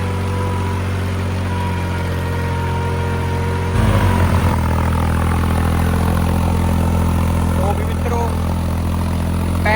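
A New Holland 3600-2 tractor running in first gear while pulling an 8-by-8 harrow, a loud, steady close engine drone with a rougher, labouring surge midway.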